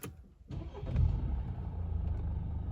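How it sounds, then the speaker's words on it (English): A Mercedes C250 car engine cranks and catches after a push-button start, then settles into a steady, close running rumble, recorded after coolant leak repairs. "Car starts right up."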